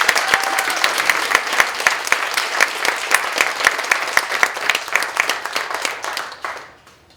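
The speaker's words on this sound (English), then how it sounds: "Would you join me in giving them all a round of applause?" Audience at a community theater season announcement breaks into applause, many hands clapping steadily and fairly close for several seconds before the sound tapers off and fades out.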